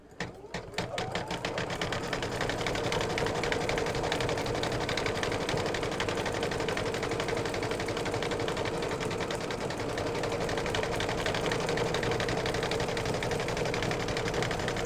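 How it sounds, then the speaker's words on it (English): An embroidery machine runs a bean stitch, a fast, steady mechanical whirring and needle chatter that starts up within the first second and continues evenly at close range. "So I am going to simply watch it as it stitches. It's going to do a bean stitch around."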